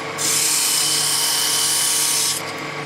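A steady, high-pitched whirring scrape of a tool cutting spinning wood, lasting a couple of seconds, loud and close, before cutting off.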